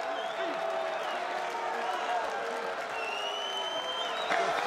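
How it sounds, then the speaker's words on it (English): A boxing arena crowd roars and chants a fighter's name after the bout, a dense, sustained wall of cheering and shouting with applause mixed in, holding steady throughout. "The crowd is shouting Berto."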